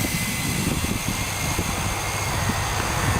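HeliCMax Sky Vampire quadcopter drone throttling up and flying, a steady broadband whir of spinning propellers at moderate level, alone without talk.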